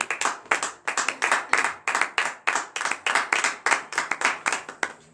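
A church congregation claps in praise during morning prayer, producing loud, close, rhythmic bursts of many hands beating together in quick groups with short gaps between.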